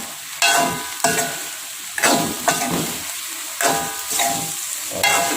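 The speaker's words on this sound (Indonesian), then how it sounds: "Selanjutnya kita masukkan ini irisan dari oncom, kita aduk" Oncom slices stirred into a cooked spice paste in a hot pan, a loud, close sizzle pulsing with rhythmic scraping strokes of a spatula roughly every half second to second.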